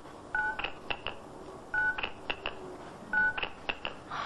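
A home answering machine runs through its stored calls, giving bursts of dialing-style tone beeps in three similar groups of short pitched pips and clicks, with no voice between them.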